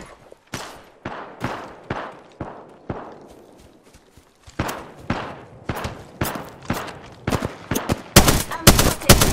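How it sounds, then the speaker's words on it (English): Bursts of gunfire in the Apex Legends video game, sharp repeated shots in irregular volleys that thicken into rapid automatic fire toward the end, with no talking. "I'm spotted. Taking fire. Firing."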